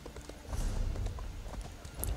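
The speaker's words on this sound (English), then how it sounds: "Look at me horse up some stairs." A horse's hooves clip-clop steadily up stone stairs in the video game Elder Scrolls Online, a dense, close, hollow patter of hoofbeats with no voices over it.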